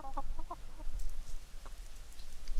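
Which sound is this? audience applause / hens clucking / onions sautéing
hens clucking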